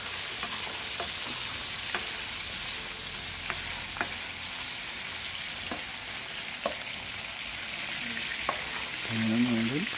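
Chicken browns in a pan for afritada, giving a steady, moderate sizzle and fry with occasional light clicks of stirring. A short louder scrape comes near the end, with no talk.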